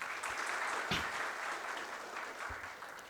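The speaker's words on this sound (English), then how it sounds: "give a big round of applause to all the teachers" Audience applause for teachers at a TiE Mysuru master class on venture financing, sustained clapping at moderate distance with a few louder hand claps standing out near the front.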